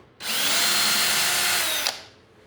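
A handheld power drill driving a screw into a wooden grow box cabinet, one sustained high whine lasting nearly two seconds, close and loud, stopping abruptly with a small clunk.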